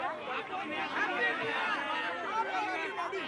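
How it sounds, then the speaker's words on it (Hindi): A dense murmur of many voices at a crowded New Year gathering, steady babble of overlapping chatter with no single voice standing out, continuous and fairly close throughout. "आज बहुत भीड़ है मुझे मालूम है"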